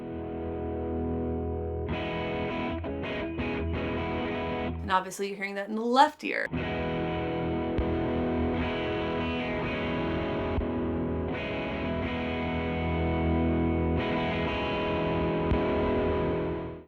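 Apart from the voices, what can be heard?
guitar through distortion pedal channel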